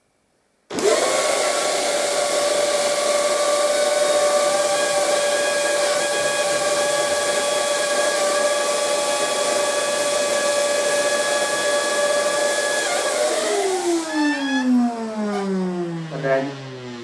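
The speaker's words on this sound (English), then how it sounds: "get your vacuum cleaner." A household vacuum cleaner runs as plaster dust is cleared after sanding a wall. Its loud, steady motor whine holds for about thirteen seconds, then drops in pitch as it winds down.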